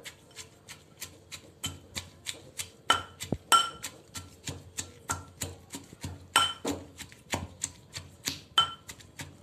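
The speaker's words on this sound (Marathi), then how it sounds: "मी खुडा असा आपला खोल कोल्हापुरी ठेसा मी असा कांडून घेतला आहे" Kolhapuri green chili thecha is pounded in a mortar and pestle: a steady run of sharp, close thuds about two per second, some strikes noticeably harder than others.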